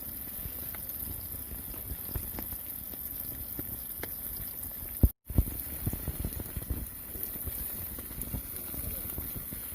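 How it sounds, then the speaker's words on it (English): Onion rings and tomatoes fry lightly in a pan with a dense, steady crackling sizzle that cuts out for a split second midway, then resumes just as busily. "onions and tomatoes are just being lightly fried"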